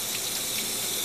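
Liquid metal-prep solution sheets off a metal surface in a continuous wet hiss and gush, steady and fairly loud for about a second with no talking.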